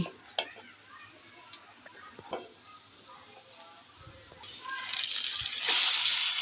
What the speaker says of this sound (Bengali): আমি এখান থেকে পেঁয়াজ বেরেস্তা করে অর্ধেকটা তুলে রাখবো